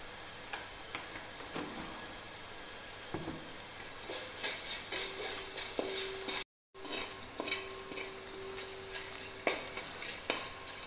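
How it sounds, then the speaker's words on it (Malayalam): Garlic sautés in hot oil in a pan for Kerala-style amla pickle, a steady sizzle close up, broken by repeated scrapes and clicks of a spoon stirring against the pan, with one brief dropout. "വെളുത്തുള്ളിയൊക്കെ നന്നായിട്ട് വഴന്നിട്ടുണ്ട്"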